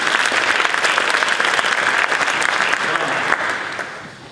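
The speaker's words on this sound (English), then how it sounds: "we got to give her applause for her" An audience applauds the cantor after a religious service, steady dense clapping that fills the room and holds strong before tapering slightly at the end.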